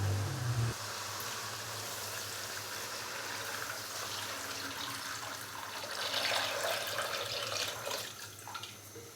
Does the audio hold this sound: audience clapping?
no